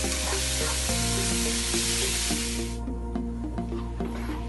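Chopped tomatoes with coarse salt sizzle and hiss in a hot pan, a steady, loud frying crackle that drops suddenly to a quieter simmer partway through, with faint stirring clicks.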